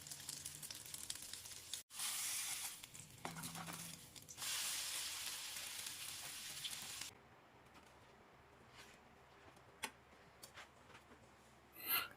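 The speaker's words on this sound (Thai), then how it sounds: "ใช้น้ำมันเล็กน้อยนะครับ นำไปทอดลงในกระทะเลยนะครับ" Cha-om and egg batter fries in a pan with a little oil, giving a bright sizzling hiss that swells in bursts, then drops to a quieter background with occasional ticks and taps.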